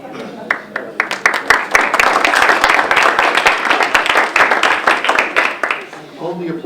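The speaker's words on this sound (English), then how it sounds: "Hold the applause till the end" Loud applause from the audience at a Rotary Club officers' installation, dense clapping close by that builds quickly and holds steady for several seconds before fading out, with voices mixed in.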